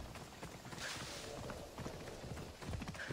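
Horse hooves clip-clopping in Assassin's Creed Odyssey, a quick irregular run of soft thuds from a walking horse, fairly close and moderately loud, with no voices over it.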